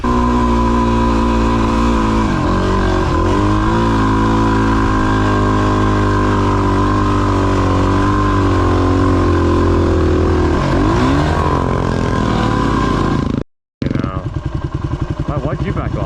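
A motorcycle engine running in the Simpson Desert, loud and steady at a close idle with brief revs, continuous for most of the stretch before a sudden short cutout and restart, with people talking over it.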